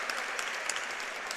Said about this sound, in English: NJC supporters showing their appreciation with applause.